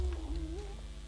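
A cat meows once in the Minecraft video game, a short, clear electronic cry that bends in pitch, heard alone over a low background hum.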